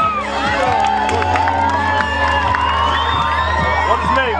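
A crowd of schoolchildren at a Brazilian school cheers, whoops and shouts in a steady loud roar during a visit by the German national football team, with light clapping mixed in and voices talking through the din.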